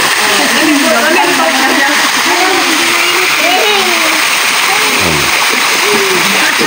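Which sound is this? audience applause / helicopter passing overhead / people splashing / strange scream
people splashing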